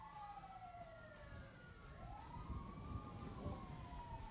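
Ambulance siren in a GTA roleplay game, a wailing tone sweeping down and back up, steady and fairly close with a low engine rumble beneath, no talking.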